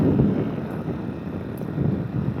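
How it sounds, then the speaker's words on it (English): A loud boat engine drones as a constant low rumble, with wind buffeting the microphone over it and no voices. "The engine is quite loud."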